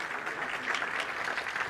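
Audience at a forum clapping for a guest speaker, a dense, steady patter of many hands at moderate loudness, continuous with no voices standing out.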